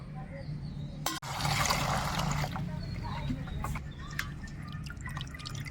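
Tangra fish being rinsed in a bowl of water in a home kitchen, with sloshing and dripping splashes, a sharp clatter near the start, and intermittent trickles against a low steady hum and background noise.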